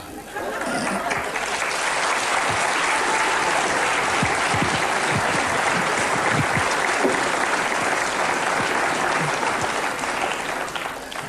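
A studio audience applauds loudly and steadily for the whole stretch, a dense, even wash of clapping with faint chatter and laughter mixed in.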